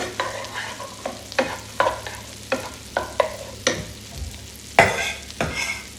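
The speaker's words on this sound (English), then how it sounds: "Saute our onions." Onions saute in about two tablespoons of olive oil over medium-high heat, a soft continuous sizzle punctuated by roughly a dozen rhythmic scraping stirs of a utensil against the pan, close and clear with no talking.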